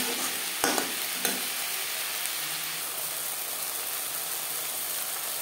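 Crushed garlic fries in a pan with a loud, steady hiss, broken near the start by two sharp clicks as it is stirred. No one speaks.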